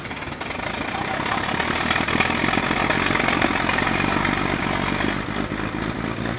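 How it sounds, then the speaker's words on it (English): An antique Ford Model K brass-era car engine runs at a car show, a loud, close, continuous rattling chug with a steady buzzing tone and no pauses, no talking. "That Model K is quite noisy"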